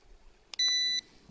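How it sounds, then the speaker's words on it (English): A drone's radio transmitter gives a short electronic beep. A brief click comes first, then a steady, clear high tone that holds for about half a second before stopping. "getting a beep beep off the transmitter"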